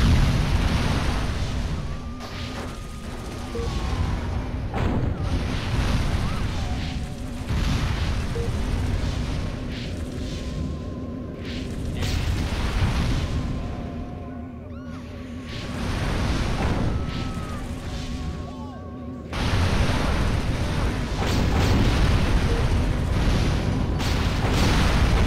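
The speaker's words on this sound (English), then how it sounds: "The Quantum Deconstructor. It has a blast wave that destroys everything." The Quantum Deconstructor in Destroy All Humans fires blast waves that level commercial buildings in Santa Modesta, a loud continuous roar of rumbling explosions and crumbling debris that swells and recedes in several waves over about 25 seconds.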